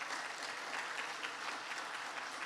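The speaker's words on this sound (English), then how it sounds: "Please give them another round of applause" Applause at a church service for the band, an even, continuous patter of many hands at moderate volume with no talk over it.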